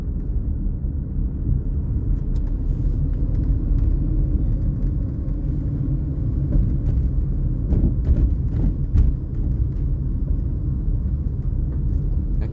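A car engine during a driving lesson, a loud, steady low rumble from inside the car that holds fairly even throughout, with faint rattles and knocks and no clear rise in pitch.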